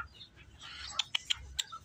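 Zoo birds calling, a handful of short chirps and clucks in quick succession over faint background noise, quiet and somewhat distant.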